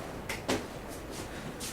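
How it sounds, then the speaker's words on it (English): A door being opened, marked by a couple of quick clicks and a louder latch-like knock early on, followed by softer scraping taps against a steady background hum. "somebody open the door"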